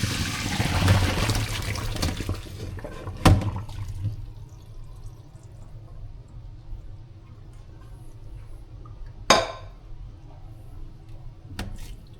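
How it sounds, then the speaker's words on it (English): Hot water is poured off boiled sweet potatoes, pouring and splashing loudly at first and then settling into quieter trickles, with a few sharp clanks of the pot. "I'm gonna go ahead and strain this water off"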